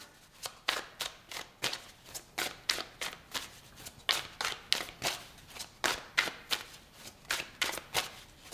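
A deck of tarot cards is shuffled and handled up close, a rapid series of crisp riffling snaps and slaps repeating in a steady rhythm for several seconds, with no one speaking.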